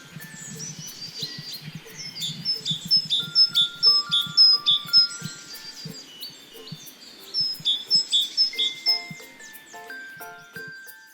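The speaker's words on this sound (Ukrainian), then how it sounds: "Вам сподобалася пісня синички?" Bright, tinkling bird song of a great tit, with repeated high chirping phrases in bursts, fairly close, with no talking.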